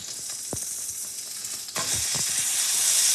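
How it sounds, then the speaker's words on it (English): Frozen bacon fried fatty side down in a pan in its own fat, a close, steady sizzle with a few soft knocks, jumping louder and brighter partway through. "we like to kind of deep fry our bacon in its own juices"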